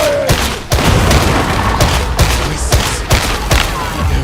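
Grenade blasts in Warhammer 40K Darktide: a rapid series of loud, close booms and cracks, several hits in quick succession over a rumbling low end, with no voices heard.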